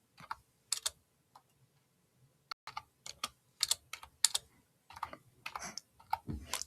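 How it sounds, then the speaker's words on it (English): Keystrokes on a computer keyboard come in sparse clicks, then quicker bursts of typing and a final press of the enter key, close and crisp in a quiet room with no talking. "when I type that in, I'm going to hit enter on my keyboard"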